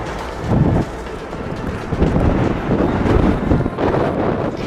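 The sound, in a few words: strong mountain wind at Penitentes, Aconcagua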